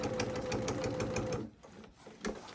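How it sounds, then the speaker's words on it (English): Sewing machine stitches a photo quilt seam, a steady fast mechanical whir for about a second and a half, then stopping, leaving a few soft clicks and handling noises. "we're going to sew that first and double check that it's exact match"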